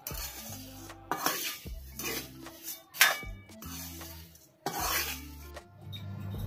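A spoon scrapes and rubs thick poha chiwda with salt around a pan, repeated rasping strokes with metallic clinks in an uneven rhythm, close and fairly quiet, alone without talk.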